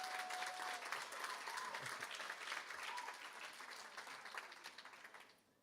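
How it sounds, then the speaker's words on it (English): Audience applause fills a school graduation ceremony at a prep school, a dense steady clapping from a large crowd that holds for several seconds before fading out at the end. "I think they deserve a bigger round of applause"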